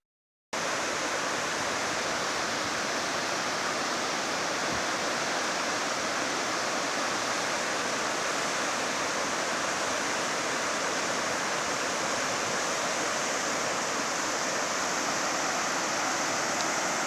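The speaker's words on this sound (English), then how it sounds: "This is that creek with the potentially dangerous ford." A rushing creek at a trail ford near Deception Pass on the Pacific Crest Trail pours in a dense, steady roar that holds unbroken and close, with no voices.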